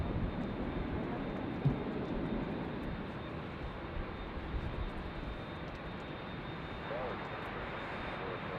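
A KLM Boeing 787 Dreamliner taxiing at LAX airport gives a steady, broad jet engine roar that stays fairly constant throughout, with a faint voice heard briefly.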